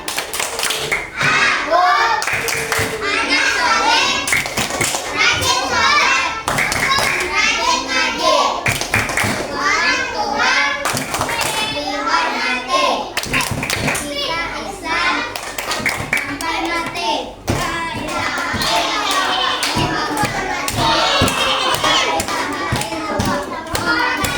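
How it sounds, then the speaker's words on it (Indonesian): A classroom of young children claps along to a rhythmic chant, bursts of sharp hand claps landing in a patterned beat between groups of chanted words, repeated through the whole stretch, with children's voices loud and close. "Tepuk anak soleh"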